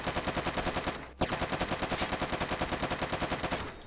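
Rapid automatic gunfire in the Roblox first-person shooter Phantom Forces, a dense, loud, even stream of shots with a brief break around the first second before firing resumes and continues to the end.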